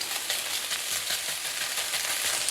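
Egg frying in a pan as the first step of fried rice, a steady close crackling sizzle running throughout with no talk.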